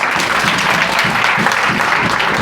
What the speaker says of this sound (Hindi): बस एक बार ताली बजा दीजिए